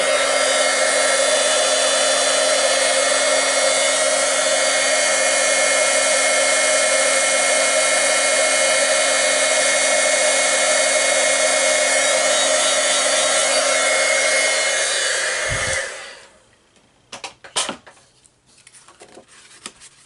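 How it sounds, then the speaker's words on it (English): A Stampin' Up! heat gun blows steadily and loudly for about fifteen seconds while it heats a paper page, then cuts off, leaving a few faint handling clicks and taps. "I'm using a Stampin' Up! Heat gun"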